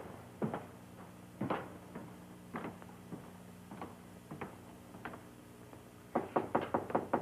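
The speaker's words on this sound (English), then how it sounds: "Better knock before you go in." Knocking on an office door in a 1950s crime drama: a few separate rapping knocks spread out, then a quicker, louder burst of knocks near the end, all close and clear with a steady low hum behind.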